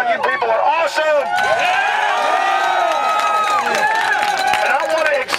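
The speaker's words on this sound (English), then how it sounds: "It is awesome to be out here in this energized South Texas Houston crowd" Energized crowd cheering and shouting at an outdoor rally outside the Federal Reserve Bank in Houston, Texas, a loud continuous roar of many voices with whoops and yells throughout.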